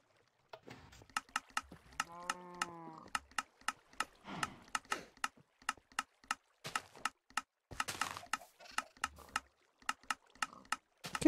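A Minecraft redstone clock ticks in a steady run of sharp, regular clicks, evenly spaced like key presses, with a brief tonal game sound early on and quiet gaps between.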